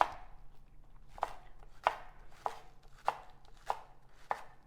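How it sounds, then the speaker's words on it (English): A knife chops diced green onions on a cutting board in steady, evenly spaced crisp strokes, about one every half second, close and clear with no talk. "I've just cut off all the white part and diced it here"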